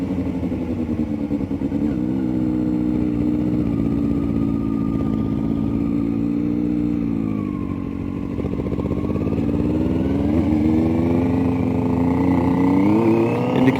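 A motorcycle engine runs steadily and loudly as the bike pulls away and rides on, its droning note climbing in pitch as it accelerates toward the end, with no voices.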